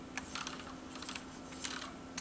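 Keys clack in short irregular bursts on a mechanical keyboard with Cherry MX switches, a Filco Majestouch 2 with Blacks or a Leopold with Reds, heard close and fairly quiet over a low steady hum.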